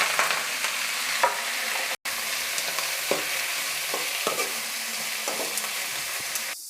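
Chopped fenugreek leaves fry in a hot pan with a continuous close sizzle, while a spoon stirs and scrapes against the pan in irregular clinks throughout, with no talking.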